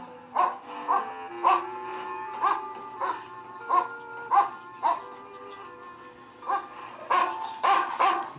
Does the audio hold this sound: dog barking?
yes